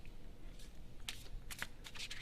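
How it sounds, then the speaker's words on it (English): Playing cards being shuffled by hand during a close-up magic trick, with several quick riffling bursts spaced across a quiet room background. "Can you just give the cards a shuffle?"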